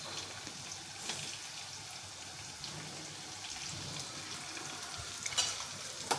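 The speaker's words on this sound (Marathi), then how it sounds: "त्याला छान परतून घ्यायचं आहे आणि लाल थोडे खरपूस होईपर्यंत ते कांदे होऊ द्यायचे आहे" Onions fry in a pan with a faint, even sizzle and a soft crackle, plus occasional light scrapes of stirring. The sound stays low and close throughout.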